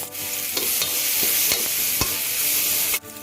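Food fries in hot oil in a pan, making a loud continuous close sizzle punctuated by several clacking strokes of stirring, with no voices.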